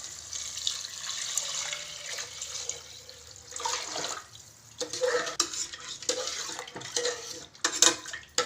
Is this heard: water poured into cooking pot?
yes